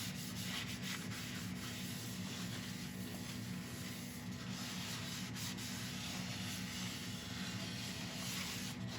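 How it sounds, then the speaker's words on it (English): Howard's Feed and Wax is rubbed into a turned apple wood piece, giving a continuous soft scrubbing and rubbing texture over a low, steady lathe-like hum throughout. "I'll give it a good healthy saturation with the Howard's Feed and Wax."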